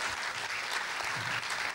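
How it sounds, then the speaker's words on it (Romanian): Dense, steady clapping from an audience at an awards gala for a children's art talent contest in Brașov fills the whole moment without a break. "Aplauze"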